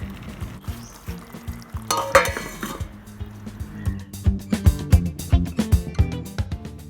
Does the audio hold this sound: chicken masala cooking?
yes